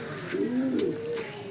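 Pigeons cooing close by, a soft warbling low coo rising and falling over about a second, with faint background noise.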